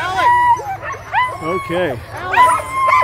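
At the start of the Fur Rondy Open World Championship sled dog race in Alaska, teams of sled dogs bark, yip and howl excitedly in overlapping bursts, with a person speaking briefly among them.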